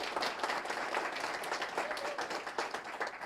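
Audience at a veterans appreciation luncheon applauding, a dense, even wash of many hands clapping at moderate distance throughout, with no talk over it.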